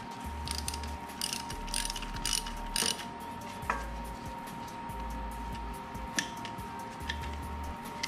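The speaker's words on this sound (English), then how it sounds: "I'm just gonna tighten it." A ratchet tightens a bolt on an AS3 Performance skid bash plate fitted to a BMW F750GS/F850GSA motorcycle, making repeated close clicking strokes in an uneven rhythm, with no talking.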